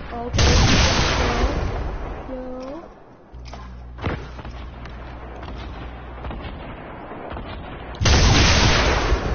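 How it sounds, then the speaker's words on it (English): Explosions in the Fortnite video game, with heavy booming blasts at the start and end and sharp gunfire-like cracks in between, loud and close, with a brief rising electronic effect in the middle. "explosions."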